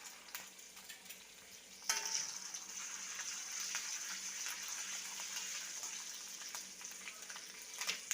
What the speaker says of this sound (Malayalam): ഇനി ഇതിലേക്ക് ഇഞ്ചി ചതച്ചത് ഇട്ട് കൊടുക്കാം